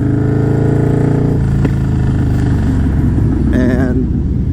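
A deep, loud Harley-Davidson Softail engine with a Sawicki Speed exhaust and HPI intake rumbles up close, idling and then shifting as the throttle changes.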